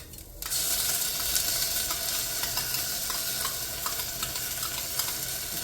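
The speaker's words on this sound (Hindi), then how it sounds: "अभी मैं टमाटो प्यूरी डाल रही हूँ।" A loud, steady sizzle bursts in as tomato puree hits frying onion and garlic inside an electric kettle, with a constant hiss and faint stirring scrapes running throughout.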